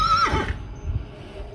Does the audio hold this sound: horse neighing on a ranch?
yes